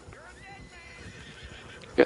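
A horse in the video game Red Dead Online gives a short, sharp neigh at the very end, preceded by a faint hum with someone talking over it.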